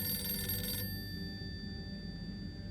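An old-fashioned telephone bell rings in Harold Halibut, a bright, insistent ringing that cuts off abruptly under a second in, leaving a steady low room hum.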